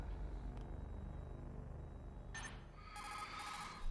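In Metal Gear Solid, the codec phone rings in bright, electronic trilling bursts that start sharply and repeat over a low, steady game rumble.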